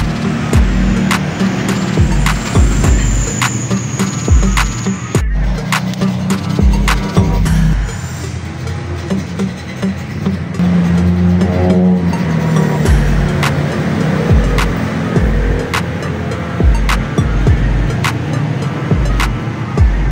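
A Honda RS 125 FI motorcycle engine running after a throttle body cleaning, a steady, loud, close idle with regular low pulsing and occasional clicks and rattles from the workshop.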